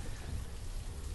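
Steady rain falls in the city-building game Banished, a dense, even wash of droplets with a low rumble underneath, brief and without speech.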